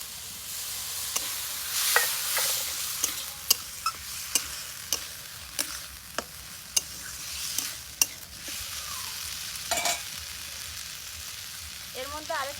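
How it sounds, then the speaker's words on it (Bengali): Boiled figs stir-fried with spices in a pan give off a soft continuous sizzle, punctuated by a dozen sharp, regular scrapes and taps of the spatula against the pan. "এবার মশলার সাথে এটা ভালো করে কষিয়ে নেব।"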